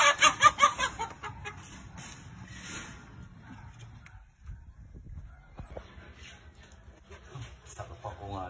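A backyard chicken clucks in short bursts at the start, then quieter scattered clucks follow while people chat nearby.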